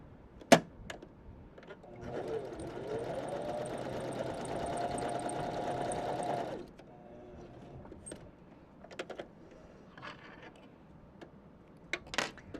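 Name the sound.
Janome sewing machine sewing sample stitches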